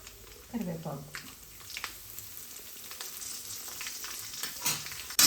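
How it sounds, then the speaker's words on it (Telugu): Cumin, dried red chillies and curry leaves sizzle in hot oil as a tempering for tomato chutney: a soft, steady frying hiss close by, with a brief voice early on. "పోపు వేగిపోయిందండి."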